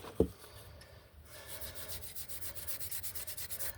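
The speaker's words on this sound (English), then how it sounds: "we started with the 80 grit, then we've gone to 120, 240, then 400." Sandpaper rubs by hand over a wooden candle holder in a quick, even series of soft scratchy strokes, close but quiet, after a brief knock at the start.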